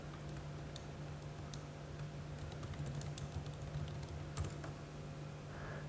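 Soft, quick clicking of keys on a computer keyboard, a scattered run of light taps over a steady low electrical hum, faint and close.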